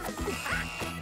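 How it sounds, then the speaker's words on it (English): A quick run of clucking, squawking chicken calls from the video game Ultimate Chicken Horse, several short bursts in close succession, fairly loud and alone. "It sounds like a chicken noise."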